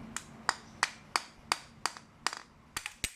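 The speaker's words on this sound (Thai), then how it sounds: "ใช้ค้อนตอกหรืออะไรก็ได้ ตอกให้ลูกออกไปเลย" A hammer strikes repeatedly to drive a bearing out of a car alternator, about ten sharp metallic knocks at a steady pace, close and distinct against a quiet background.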